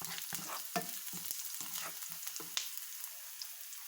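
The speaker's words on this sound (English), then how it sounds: "we will saute the garlic and the onions" Garlic and onions sauté in a pan with a close, steady sizzle, broken by quick clinks and scrapes of stirring; no one speaks.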